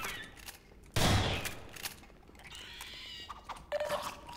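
Shotgun fired in the video game Half-Life 2: Episode One, a single loud broadband blast followed by fading game ambience and small mechanical clicks, with no talk over it.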